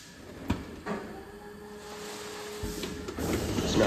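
A Lely milking robot blows air to dry a cow's teat, a steady airy hiss with mechanical clunks and thumps from the unit and a rising whoosh near the end, heard fairly close with no talking.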